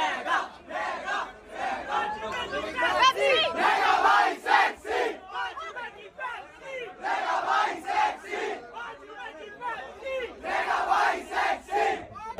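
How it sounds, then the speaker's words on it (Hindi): A large, dense crowd cheers and shouts continuously at a busy gathering, with many overlapping voices swelling and falling in waves, loud and close. "तो क्योंकि भीड़ बहुत हो गई है।"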